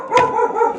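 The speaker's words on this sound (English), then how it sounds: "They barking at the neighbors." A single sharp dog bark close by, followed by a short ringing tail.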